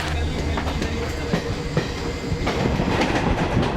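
A train running on rails on a long journey toward Kashmir, a steady loud rumble with faint rhythmic clicks throughout, no voices.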